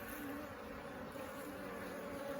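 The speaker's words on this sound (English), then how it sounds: "Look at all the bees on the bottom ready to come up here" Honey bees swarm over a beehive frame in an outdoor apiary, giving off a steady, dense buzzing hum. It stays close and continuous for the whole stretch, with no pauses or voices.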